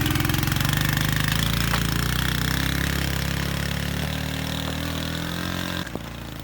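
Honda CD 70 motorcycle engine idling steadily at close range, a loud, even mechanical chatter on a mountain track in Galai Maidan, Allai Valley, northern Pakistan, with a brief knock near the end.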